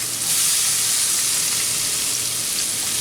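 Granny Smith apples sauté in olive oil and butter in a pan for apple sage stuffing, giving a dense, even sizzle and hiss that stays constant and close throughout, with no voices.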